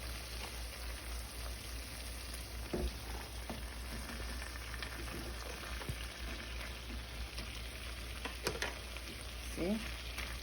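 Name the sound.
chopped onions sizzling in a frying pan with salmon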